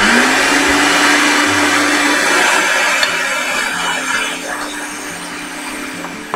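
A kitchen blender grinds chital fish flesh into mince, a loud steady motor whine running continuously with slight pitch shifts as the load changes, with no talking over it.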